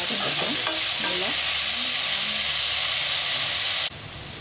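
Onions sautéing in a pan for a Tamil capsicum chicken gravy, a steady loud sizzle and hiss with a few soft stirring scrapes near the start, with no talk.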